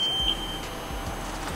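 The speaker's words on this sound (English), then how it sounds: "So when there's a beeping sound, it shows that the bike is already off." A Zontes T310 motorcycle gives a single short high electronic beep as it switches off, followed by quiet background hum with no talking.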